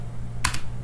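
Keys on a computer keyboard give a short pair of quick, close clicks against a quiet background hum.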